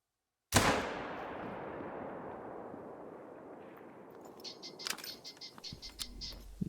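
A single rifle shot in theHunter: Call of the Wild cracks loudly out of silence and decays into a long rolling echo across open terrain, followed by faint, scattered clicks and rustles.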